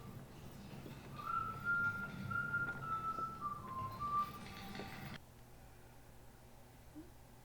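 A man whistles a tune, a clear wavering melody held for about four seconds over background TV sound. It breaks off abruptly and only a quiet room remains.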